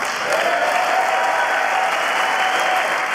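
Democratic lawmakers applaud during President Biden's speech in the House chamber, a loud, continuous wash of clapping with no break across the few seconds.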